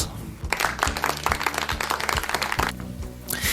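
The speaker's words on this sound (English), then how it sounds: "A round of applause." A short round of clapping for students in a science lesson broadcast, brisk and fairly close, running over a repeating musical backing with steady beats throughout.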